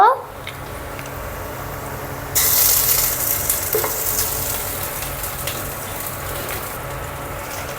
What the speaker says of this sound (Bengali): পেঁয়াজ প্রায় ভাজা শেষ আর এখন আদা বাটা রসুন কাঁচামরিচ আর চুই দিয়ে দেব